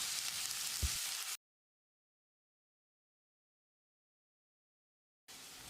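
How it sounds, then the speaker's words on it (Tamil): Chopped onions sizzling in groundnut oil with fennel seeds in a pan for spicy mutton curry: a soft, steady frying hiss that cuts out into silence, then returns at the end. "வெங்காயத்தை பொன்னிறமாக வதக்கணும்."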